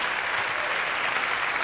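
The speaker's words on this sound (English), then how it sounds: "You can applaud if you wish." Studio audience applause at a televised interview with George Carlin, steady and dense throughout, a broad wash of many hands clapping with no voices on top.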